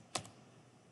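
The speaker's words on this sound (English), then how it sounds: "press Delete to erase that name and type in my own name" A single keystroke on a computer keyboard, a sharp click followed by a fainter second tap, close and alone against quiet room tone.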